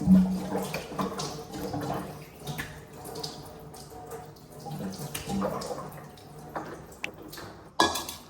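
Running water splashes and drips steadily from a tap, with intermittent splashing and a louder knock near the end; no voices.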